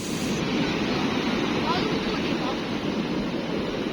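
Sea waves surge toward the shore in a steady, broad wash of surf, loud and continuous with wind buffeting the microphone.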